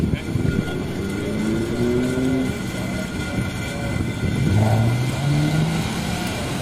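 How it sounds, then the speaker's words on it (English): A first-gen Subaru Legacy drag car engine revs, its pitch sweeping upward in repeated rising pulls, heard in a rough, noisy older recording with ambient background sound. "Hear that sucker bringing up the RPMs."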